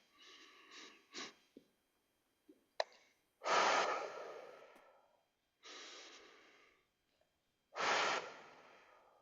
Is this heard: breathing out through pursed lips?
yes